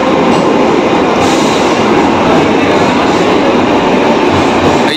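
A train leaves Khidirpur station in Kolkata with a loud, continuous roar of wheels and carriages rolling close by, steady throughout with no speech.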